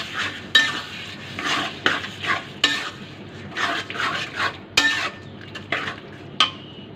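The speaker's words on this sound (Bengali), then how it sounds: "এরপরে আমি ভালো করে নেড়ে নেব।" A spoon stirs a mango laddu mixture in a pan, with irregular scraping strokes and sharp metallic knocks against the pan over a faint background sizzle, close and with no talking.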